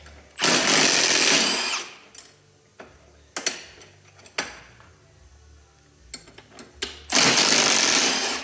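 A pneumatic impact wrench breaking loose a shock bolt on a Polaris Triple XLT race snowmobile: two loud, harsh rattling bursts, one at the start and one at the end, with clanks and tool handling in between.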